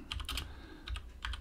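Quick bursts of keystrokes on a computer keyboard, typing a colcon build command while setting up ROS 2 on a Raspberry Pi 4, in two or three short clusters, close and quiet, with no talk.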